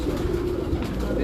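Pigeons coo softly in Karachi pigeon-keeping surroundings, a low steady murmur beneath nearby voices.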